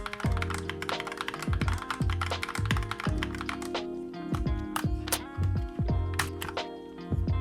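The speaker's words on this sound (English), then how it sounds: "and then I'm going to put on the blue space bar." Plastic keycaps, including a blue spacebar, are pressed onto an Akko 3068 keyboard, giving a string of close, crisp clicks and taps at an irregular pace with short pauses between them.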